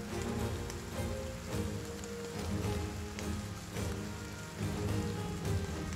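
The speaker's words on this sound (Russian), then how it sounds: "Дождик идет прям. Слушайте, какой звук." Real rain falls steadily outside, a soft, continuous patter of drops on surfaces with faint low hum underneath, fairly quiet and unbroken.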